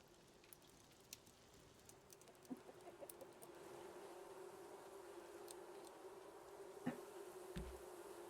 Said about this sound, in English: This bee sounds so worrisome, you know?